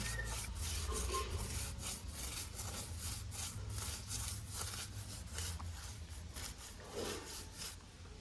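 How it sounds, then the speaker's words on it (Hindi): A brush scrubbing a Bajaj NS 160 motorcycle chain at home, with quick rhythmic back-and-forth rubbing strokes repeating steadily throughout at fairly low volume and close range. "तो कुछ इस तरह से ब्रश से रगड़ लेंगे अच्छे से।"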